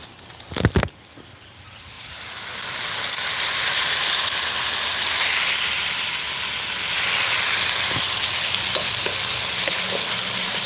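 Onions, carrots and meat sizzling steadily in a pan, a dense bright frying hiss that swells and settles, with a couple of sharp clatters near the start and faint ticks later; no talking.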